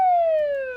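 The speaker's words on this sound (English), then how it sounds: "his ambulance's siren echoing the reassuring melody of safety and hope" A single descending siren tone, clear and loud, with steady harmonics that slide slowly downward before cutting off, typical of an ambulance siren passing alone without voices.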